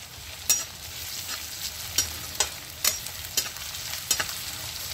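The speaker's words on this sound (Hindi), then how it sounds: "प्याज को हम अच्छे से चला लेंगे।" Onions fried in mustard oil in a kadhai keep up a steady sizzle, broken by a series of sharp spoon clinks and scrapes against the metal as they are stirred, close up with no talking.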